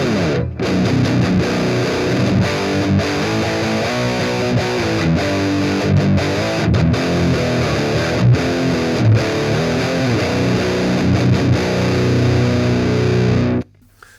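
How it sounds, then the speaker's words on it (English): Distorted electric guitar through a Peavey amp's overdrive channel, a steady gritty chord and riff passage played alone for about thirteen seconds before cutting off. "the PV has a distortion channel, but I'll show you why I don't use it this often"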